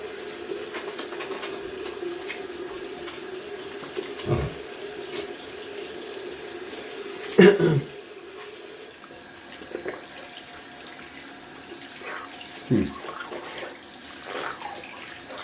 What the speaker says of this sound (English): Just gonna quickly rinse off the sink.